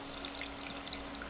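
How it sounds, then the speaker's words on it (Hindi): Mushrooms squeezed by hand and rinsed in a bowl of water give a faint, close trickle and light splashing with a few soft drips, and no one speaks. "तो एक बार और उसे अच्छे से निचोड़ कर धोइए।"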